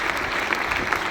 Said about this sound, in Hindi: जोरदार तालियां से बच्चे का स्वागत करो।